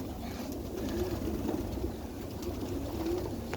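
Pigeon cooing near a pigeon box on a backyard village farm, low soft coos repeating steadily over a constant rumbling background, with no talk.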